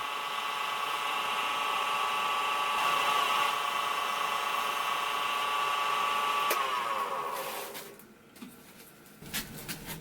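A steady whirring wood lathe motor hum with scratchy abrasive rubbing of 1500-grit sandpaper on a CA-glue-finished pen barrel runs continuously, then cuts off near the end, leaving faint clicks and handling noises.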